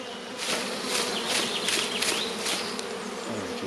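A swarm of bees buzzes steadily as it is gently shaken from a branch into a small hive box, the dense humming close and continuous with a few brief louder surges.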